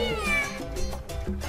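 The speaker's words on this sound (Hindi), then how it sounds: "कहाँ गई है ये बिल्ली?" A cat meows loudly and close by, one drawn-out yowling cry that rises and falls in pitch over a few seconds, with no voices around it.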